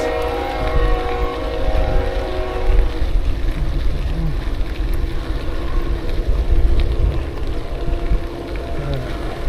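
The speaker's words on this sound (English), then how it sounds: "There's the train." A train rumbles past at a distance near an old landfill, a broad, steady low roar that swells and fades slightly, with some tonal hum early on.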